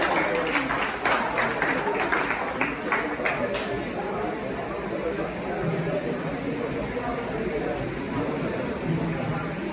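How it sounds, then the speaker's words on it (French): Audience applause at an official stage launch event, brisk clapping strongest at first and then thinning into a murmuring crowd with chatter beneath. "Veuillez applaudir, s'il vous plaît."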